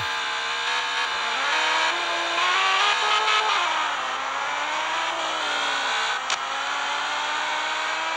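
A racing car engine in the Car Parking Multiplayer game, an EK9 Civic, revs loudly and continuously, its pitch rising and falling through gear changes, close and dominant with no speech.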